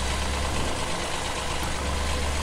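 Small tractor engine running steadily in a farming survival video game, a continuous low idling rumble heard close and alone, with no voices.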